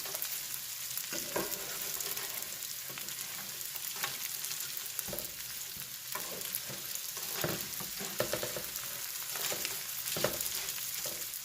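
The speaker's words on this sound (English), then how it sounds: "You can hear the difference on how they are moving and they're getting crispy." Tortilla strips fry in hot oil for a vegan tortilla soup, a steady bright crackling sizzle with occasional shuffles and taps as they are moved about the pan, close and continuous.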